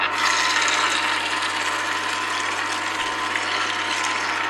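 An Angel twin-gear juicer grinds long-fibered produce, a steady close rasping, crunching churn with a low motor hum running unbroken throughout, no voices.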